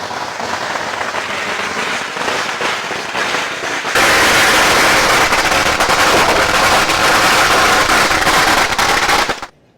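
Firecrackers crackle and explode from all sides at a Halloween street party in Thailand. Rapid, dense bursts like gunfire run loud and continuous and grow even louder midway, then cut off abruptly.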